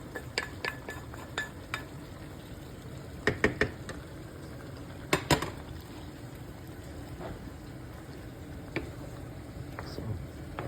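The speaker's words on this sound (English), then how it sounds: "I'm going to transfer the contents of the other pot, green onions, the tomatoes, everything that I had fried earlier" Fried green onions and tomatoes are scooped from one pot into another, with scattered metal spoon clinks and scrapes against the pots coming in short bursts over a faint kitchen background.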